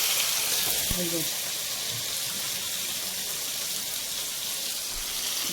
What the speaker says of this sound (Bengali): হলুদ গুঁড়ো, লঙ্কা গুঁড়ো, নুন, ধনে গুঁড়ো জলে গুলে একটা পেস্ট বানিয়ে রেখেছি, ওটা ঢেলে দেবো।